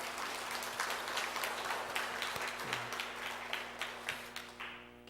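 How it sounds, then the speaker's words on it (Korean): A church congregation gives applause after worship singing, with sparse, fairly quiet clapping and a few sharper individual claps over a steady low hum. "하나님께 영광의 박수 올려드립시다"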